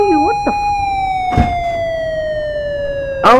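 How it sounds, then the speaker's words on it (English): A police car siren holds a loud, steady wailing tone that slowly drifts downward in pitch, broken by a few short noisy bursts and rising again at the end, with brief voice-like sounds mixed in. "What the fuck is that the police car?"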